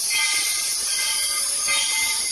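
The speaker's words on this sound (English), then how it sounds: "Why would you keep going when you can hear and see the train?" A train passes close by, a loud, steady roar of rolling wagons with a faint tonal edge running throughout, and no voices.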